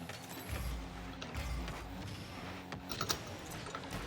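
Quiet clicking of a computer keyboard during gaming, irregular bursts of keystrokes with a faint low hum beneath and a slightly sharper cluster of presses toward the end.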